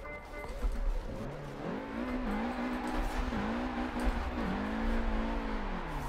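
Car engine in Forza Horizon 4 driven with a 900-degree steering wheel during a freestyle gymkhana drift through city streets, a steady droning rev that rises and dips with throttle over continuous low rumble, with someone talking over it.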